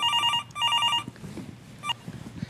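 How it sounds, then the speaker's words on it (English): A cell phone rings with a repeating electronic trill in two clear bursts, then a brief blip, over quiet room noise and light handling sounds. "My cell phone is ringing."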